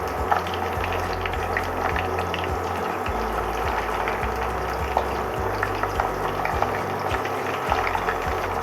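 Chicken 65 pieces fry in a pot of hot oil, giving a continuous bubbling, crackling seethe with small pops scattered through it, steady and close with no talking.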